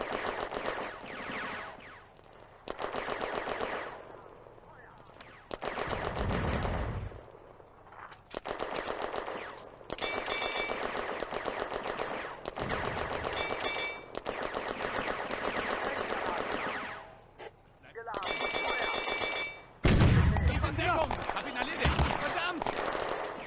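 Bursts of small arms and machine gun fire in a WWII Eastern Front combat game erupt in repeated loud volleys broken by short pauses, with a voice speaking between some of the bursts.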